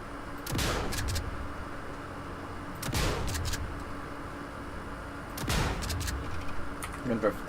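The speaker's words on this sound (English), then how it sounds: "I'll actually start testing shotguns out in it." Shotgun blasts on a shooting range in the video game Sniper Elite 5, three loud booming shots spaced a couple of seconds apart, each with a sharp crack and rumbling tail over a steady background hum.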